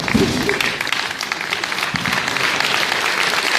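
Audience applause at a Black Panther 50th anniversary celebration as Seattle chapter members are recognized: dense, sustained clapping fills the whole stretch at a steady, loud level, with a few voices mixed in.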